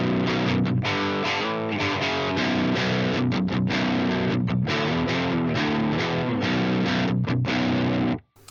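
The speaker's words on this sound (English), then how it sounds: "So here is the sound of the amp without any pedal engaged." An electric guitar through a Fractal amp modeling a Soldano SLO 100, no pedal engaged, playing a crunchy, moderately driven riff of chords and single notes, loud and continuous for about eight seconds before stopping.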